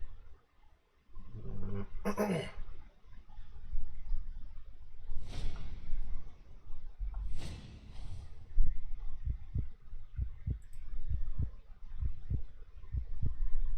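In the Blacksad: Under the Skin video game, a steady heartbeat thumps in a slow, even rhythm of soft low pulses, with a few breathy, growling sounds at the start.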